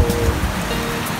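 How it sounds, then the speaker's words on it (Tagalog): Heavy rain pounding down outdoors beside a home hydroponics setup, with a steady broadband wash and low rumbling gusts of strong wind through the whole short stretch, no voices. "Lakas ng hangin tsaka ulan."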